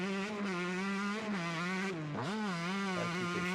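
A motorcycle in MX vs ATV All Out pulls away in first gear with no clutch, its engine buzzing steadily loud, dipping briefly, then rising again in a wavering climb of revs.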